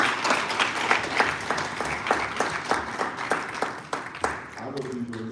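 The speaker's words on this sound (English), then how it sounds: "You all another round of applause." Audience applause at a Chicago Public Schools community forum, dense clapping sustained throughout at moderate distance, with a voice starting to speak at the very end.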